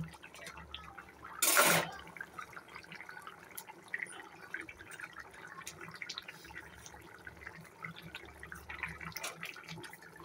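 Potatoes and pointed gourd bubble in water for a fish curry, a soft, steady gurgle of boiling liquid with light drips and one brief louder splash near the start.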